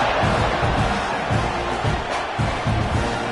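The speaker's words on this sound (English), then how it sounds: "They're set to kick it off, and this crowd now ready to get behind them." A football stadium crowd at kickoff makes a dense, continuous roar of cheering with surging swells, broad and loud, with some speech mixed in.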